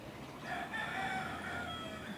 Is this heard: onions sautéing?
no